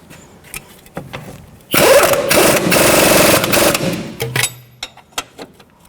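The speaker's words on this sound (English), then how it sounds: "So I'm going to try to push at the same time and bottom this bolt out." A power tool runs a bolt down on the front strut of a 2006–12 Toyota RAV4, a loud buzzing burst of about two and a half seconds, bracketed by faint clicks and handling noises.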